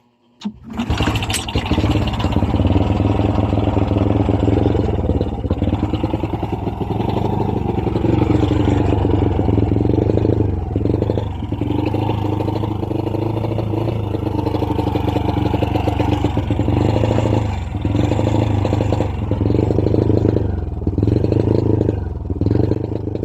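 A Honda Wave 100 carburetor-type motorcycle with a hard-starting, misfiring engine cranks and catches, then runs loud and close with repeated throttle blips that struggle to build revs, a rough idle between them.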